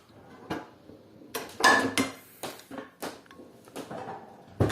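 A skillet pulled out and handled for grilled cheese, giving a run of close metallic clanks and knocks of cookware and utensils at an uneven pace, with no talking over them.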